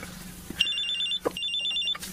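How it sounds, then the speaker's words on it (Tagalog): A cellphone rings with an incoming call in an indoor domestic scene, two bursts of a bright electronic trilling ringtone, each about half a second long, separated by a short pause, fairly close and clear with no speech over it. "may tumatawag sa cellphone"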